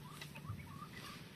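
A Cardinal Club Kelso gamefowl in a breeding setting gives a few soft, short clucks, faint and close, over low background noise.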